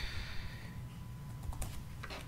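Computer keyboard keys tapped in a short quiet burst while code is written, a few light clicks near the end after a soft, steady background hum.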